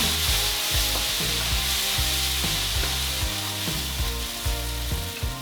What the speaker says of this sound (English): now we're going to add our quinoa. Mix that around.